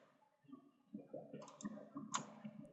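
A computer mouse clicks several times in quick, irregular succession, faint and close by, with no one talking.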